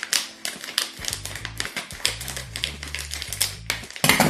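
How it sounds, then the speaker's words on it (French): Scissors snip and crunch through the plastic of a humidity absorber bag, a close series of sharp irregular clicks and rustles with short hums of handling between cuts. "je prends le ciseau et je vais couper"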